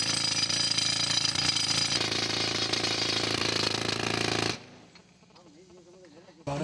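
Heavy drilling machinery bores into marble in a vast quarry in India, a loud harsh continuous rattling roar for about four and a half seconds before cutting off to quieter background, then resuming briefly.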